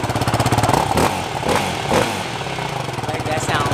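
Yamaha YFZ450R ATV engine running near and steady, a throbbing mid-pitched idle with slight revving swells, heard with no talking over it.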